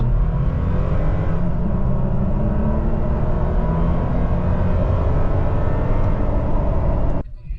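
A Toyota Tacoma accelerates at full throttle with the ECT power mode switched on, its engine a steady, droning roar with rising harmonics that holds for about seven seconds and then cuts off abruptly.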